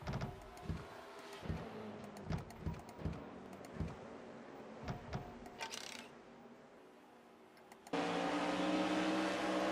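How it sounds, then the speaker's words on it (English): Racing trucks in an NRSL truck series video game race at Lowe's, engines whooshing past in a series of sharp bursts, then a steadier loud engine drone near the end. "Shane Lake now pulls up with the back bumper of the 24 truck"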